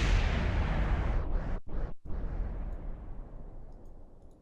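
Rocket in the game Kerbal Space Program crashing and exploding: a loud, booming blast that rolls on with a long rumbling tail, briefly broken by two short dips before the low roar fades slowly.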